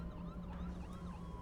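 Police car sirens wail in the space game X Rebirth, several overlapping rising and falling tones sounding distant and steady over a low droning engine hum throughout.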